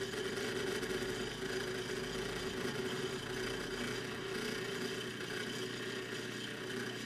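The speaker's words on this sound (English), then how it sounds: "You can also hear there's noise, and that's because the magnet's on as the rotor passes it" Homemade electronic motor driven by a PIC 12F675 microcontroller, its rotor spinning past the magnet with a steady, continuous whirring hum and buzz that holds at a constant level throughout.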